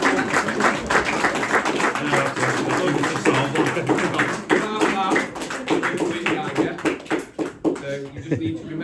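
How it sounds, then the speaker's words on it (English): At an under-11 football awards night, people in a hall give the parents a round of scattered clapping, mixed with talking voices throughout. "I think we have round of applause to the parents."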